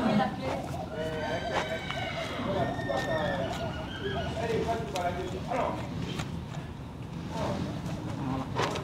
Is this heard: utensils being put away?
no